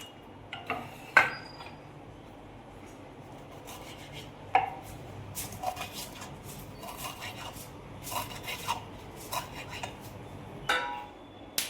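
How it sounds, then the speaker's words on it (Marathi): Coriander being finely chopped with a knife in a home kitchen: scattered taps of the blade on a board, a few sharper knocks among them, with light clatter and low background hiss, no talking. "सांबार कट करून घेतो बारीक बारीक"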